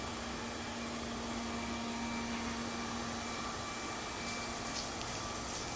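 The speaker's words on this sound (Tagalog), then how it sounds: "nakikipag-away po siya dun sa vacuum na yan" A robot vacuum cleaner runs with a steady, fairly quiet whir and faint hum, continuous throughout, with a few small ticks and rattles near the end and no talking.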